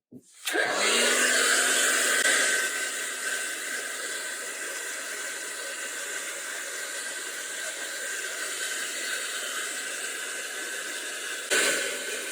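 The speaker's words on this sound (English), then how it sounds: "We're ready for our hair dryer. And again, you want to set it on the coolest temperature setting and the highest blow volume." A hair dryer set to its coolest temperature and highest blow speed runs steadily over freshly poured resin ocean waves, giving a loud continuous airy hiss that starts abruptly and holds throughout, with a brief bump near the end.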